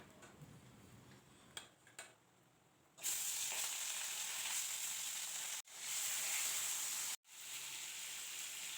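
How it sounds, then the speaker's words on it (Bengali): Pieces of rohu fish fry in hot oil in a pan, a loud steady sizzle that starts after a few quiet seconds and is briefly cut twice before resuming. "আর বাকি মাছ আছে সেগুলো এইভাবে লালচে করে ভাজা করে নেব"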